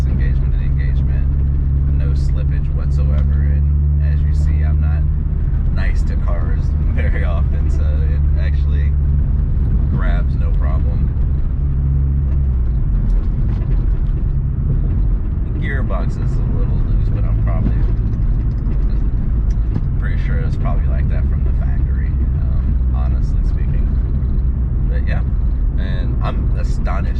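An early 2000s GM car with a smooth manual clutch drives hard, its engine droning steadily low while trim cracks and rattles throughout; someone talks over it at intervals.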